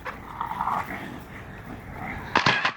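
Pit bulls romping together on a lawn, with a steady mix of low growls and scuffling, then a louder burst of sharp dog sounds near the end.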